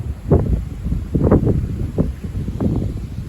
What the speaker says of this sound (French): Ça souffle encore.